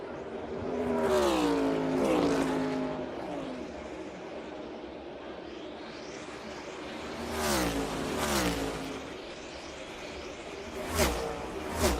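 NASCAR Cup Series stock cars on the final lap at New Hampshire, their loud engines roaring and wailing as several cars sweep past close by, each pass rising and falling in pitch over a steady track rumble.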